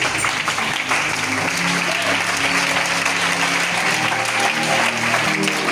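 A church congregation claps loudly and continuously in acclaim of God, dense sustained applause filling the room with a faint murmur of voices beneath.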